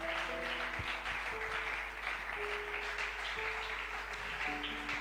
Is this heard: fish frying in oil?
no